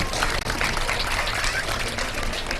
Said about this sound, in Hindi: तालियां बजा दें जी इनके लिए।